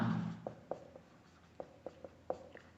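A pen taps and scratches on paper in quick separate strokes, about eight close marks, while a substitution-method equation is written out for a class 10 maths problem; quiet room, no talk.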